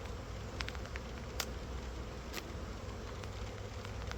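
Honey bees hum steadily around a hive during an inspection as a storm approaches, with a continuous close buzz and a few louder individual bees darting past.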